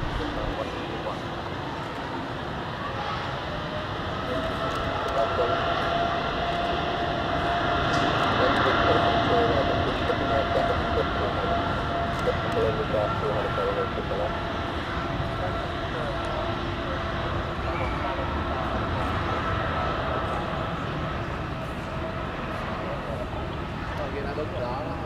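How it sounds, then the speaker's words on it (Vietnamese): A Philippine Airlines Boeing 777 taking off at Tan Son Nhat airport, heard from a nearby café as a steady, broad jet roar that swells gently mid-way and holds for about 25 seconds, with faint background chatter. "Đây là pha cất cánh của chiếc 777 của Philippine Airlines."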